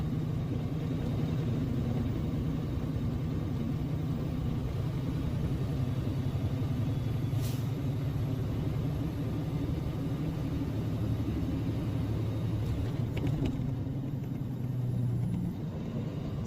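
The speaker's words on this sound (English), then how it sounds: "We're going to be starting up a hill, so we'll just downshift a little bit here." A 10-speed truck engine runs steadily under load while climbing a hill, a continuous mid-pitched rumble with slight shifts in tone as the gears drop, heard close and without talk.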